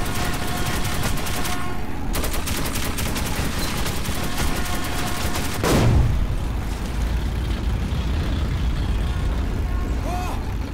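Gunfire aimed at a pursuer in Metro 2033 Redux rattles in dense bursts over a rumbling vehicle, with a heavy blast midway and voices talking throughout.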